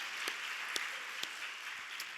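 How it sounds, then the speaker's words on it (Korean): A church congregation at a Friday late-night prayer service claps steadily throughout, a soft, continuous wash of applause heard from a distance with a few sharper claps standing out. "박수해 주세요"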